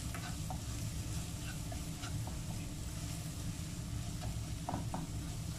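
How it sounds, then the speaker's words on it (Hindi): A spice masala of cumin powder, turmeric and salt fries in a pan with a dense, steady sizzle, broken by scattered scraping taps as it is stirred. "अब इस मसाले को हम अच्छे से भूनेंगे जब तक खुशबू नहीं आ जाती"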